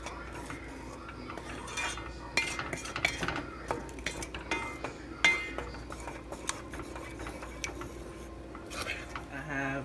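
Spaghetti sauce stirred with a utensil in a pot on a low stove, a run of close clinks, scrapes and taps against the metal at an uneven pace, moderately loud over a quiet background hum.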